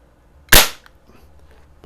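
One sharp, loud crack from a Beeman AR2078 CO2 target rifle, close by with a quick decay, followed by faint handling noise.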